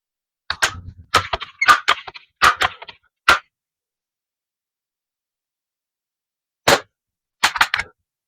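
Crosman Legacy 100th Anniversary Edition air rifle firing pellets: a run of sharp cracking shots and clicks in quick succession, then a long pause, then another single crack and a final short burst of shots, close and loud.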